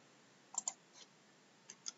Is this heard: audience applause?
no